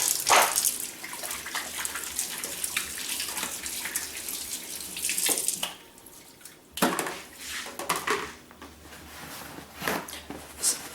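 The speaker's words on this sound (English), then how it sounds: "Gotta wash my hands again." Tap water runs and splashes into a sink during handwashing, a steady rushing flow with brief louder bursts and a short pause partway through, close by with no talk.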